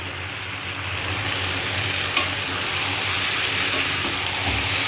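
Vegetable curry with spices being stirred and cooked in a pan on a gas stove, a steady broadband sizzle and scraping close by with a couple of sharper clinks, continuous throughout with no talking.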